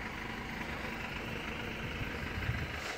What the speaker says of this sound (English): Mercedes-Benz Sprinter. It's the 313 CDI. Long wheelbase, diesel, curtain side body.